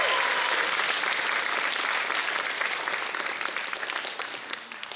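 A large audience claps at a Bharatanatyam arangetram, a solo classical dance debut, with dense, sustained applause that holds loud and full before tapering slightly near the end.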